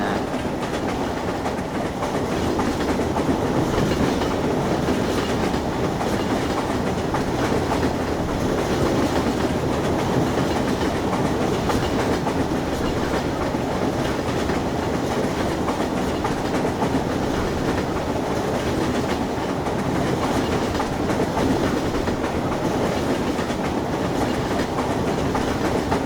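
Train rolling along rails in Garry's Mod, a steady, continuous rumble with rhythmic clickety-clack of wheels over track joints, close and loud throughout with no talking.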